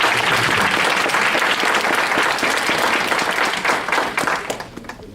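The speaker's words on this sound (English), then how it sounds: "Can we give him another round of applause?" Dense applause from a large audience at a Democratic Alliance presidential event, loud and sustained, then tapering off toward the end.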